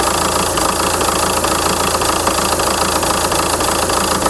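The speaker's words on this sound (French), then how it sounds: "le fameux ralenti instable et les à-coups qu'il y a" A Volkswagen Touran 2.0 TDI 136 hp diesel idles unevenly up close, a loud rattly knocking engine sound with small periodic jerks and no talk.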